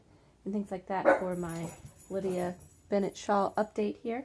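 Dogs bark and yip indoors at home, short sharp calls mixed in with someone talking close by.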